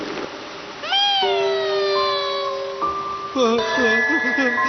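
A cartoon cat meows in a long, rising and wavering cry, then gives a second cluster of shorter, bending meows, loud and close; a faint voice murmurs underneath.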